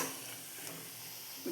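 Steady soft sizzle and hiss as yogurt goes into a hot spice paste for a bitter gourd pachadi, continuous and fairly quiet with no voices.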